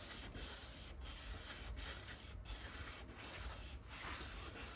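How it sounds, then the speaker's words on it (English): Wet sanding of a flat turntable dust cover, a steady close scratchy rubbing with regular back-and-forth strokes and brief pauses between passes. "So I'm going to wet the whole thing down, and then sand first back and forth,"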